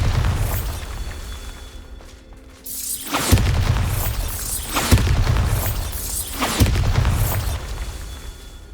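Bombarda spells go off in Hogwarts Legacy as loud, close blasts, three heavy booms with crumbling debris spaced a second or two apart after a quieter opening.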